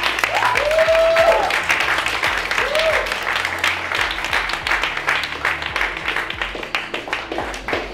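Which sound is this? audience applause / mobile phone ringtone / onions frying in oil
audience applause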